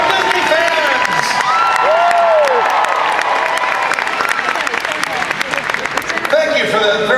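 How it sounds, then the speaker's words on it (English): A D23 Expo audience breaks into loud, sustained applause with scattered whistles and cheers from a large crowd in a hall. "Thank you for that very warm applause"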